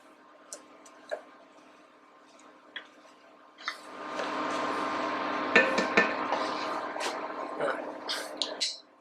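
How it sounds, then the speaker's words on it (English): Stirring a pot of five pepper chili with a little juice added, a few light clinks early, then a steady wet swishing and scraping with occasional utensil knocks against the pot, close and fairly loud. "Give it a good stir."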